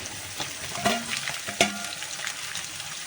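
Chilies, sliced carrot and ginger hit hot oil for a quick carrot pickle, a close, fairly loud sizzle with a few sharp pops and scrapes near the start, no talking.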